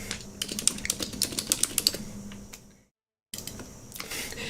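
Rapid clattering keystrokes on a computer keyboard, close and fairly loud, with a brief silent gap before the typing resumes.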